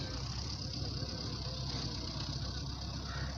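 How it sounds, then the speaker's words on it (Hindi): A tractor engine runs steadily in the distance while levelling ground outdoors, a continuous low mechanical drone that stays faint and even throughout, without speech. "आपको उसकी आवाज़ आ रही है या नहीं, लेकिन मुझे ज़रूर आ रही है। वो है ट्रैक्टर।"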